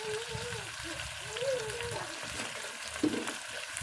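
Potatoes and eggs fry in a pan with a steady close sizzle and crackle, the hot oil spitting under occasional stirring and a brief clink near the end, while a faint voice murmurs in the background.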